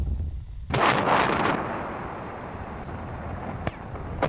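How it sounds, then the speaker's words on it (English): A 100-ton TNT blast, a sudden loud roaring boom that lingers as a rumbling wash and slowly fades, with a couple of faint sharp pops after. "here's what an explosion with only 100 tons of TNT looks like"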